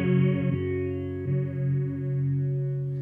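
A single sustained electric guitar chord through a Roland Micro Cube amp rings out with a shimmering, swirling chorus effect, close and moderately loud, fading slightly as it holds.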